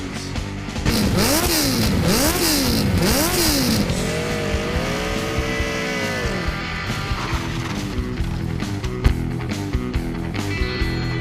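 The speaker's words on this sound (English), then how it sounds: "Rev up your engines." Engine revving hard and loud in repeated rising and falling bursts, then holding a steady high-revving drone over continuous mechanical noise, with no talk.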